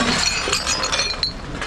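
Glass items clink together while being sorted from a dumpster, with a brief sharper crack as one piece breaks; several close, bright knocks in quick succession.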